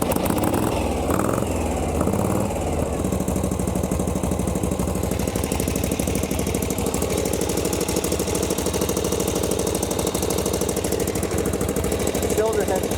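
A 1937 Harley-Davidson Knucklehead engine, its cylinder head broken, fires up after a kick start and settles into a loud, close, rapid thumping idle that runs steadily throughout, with someone talking briefly over it.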